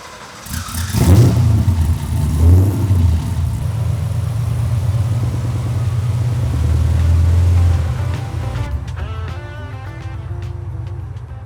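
Gas Monkey Garage's F6 Ferrari engine revs hard and loud up close, a deep rumbling roar that swells, holds steady, then eases back toward idle on a track day.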